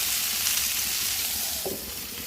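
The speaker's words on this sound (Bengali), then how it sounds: "এ ফাঁকে টমেটোগুলো ভেজে নিই" Tomatoes sizzle and fry in a hot pan while dal and potato mash are being made, a steady close hiss throughout with a slight drop in intensity near the end and no talking.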